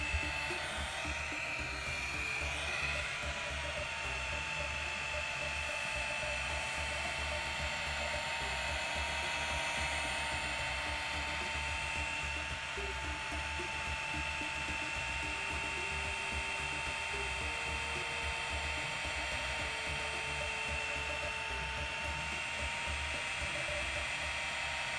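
Machine polisher with a finishing pad and ultra fine finishing polish working car paint to remove clear coat scratches, a steady, continuous whirring drone with a faint tonal whine throughout, close and unbroken, no talking.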